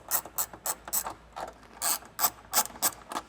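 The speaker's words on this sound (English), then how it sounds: "So we have our ratchet extension and 10mm socket. We're gonna go ahead and remove both of these nuts." Ratchet on an extension with a 10mm socket loosening the taillight nuts on a 4Runner, a run of quick clicking bursts in an uneven rhythm, close and crisp with no voices.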